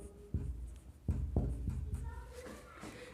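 A few faint, scratchy strokes of writing on a board during a live class on ethers for class XII, spaced irregularly over a quiet room.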